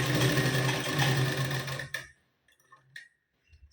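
Sewing machine stitches tucks on a blouse in a loud, steady mechanical whir for about two seconds, then stops, leaving a few faint clicks and handling noises.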